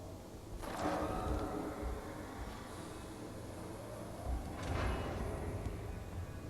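A heavy sliding door in the video game Fallout 4 grinds open in two rumbling, scraping surges, moderately loud over a low steady hum.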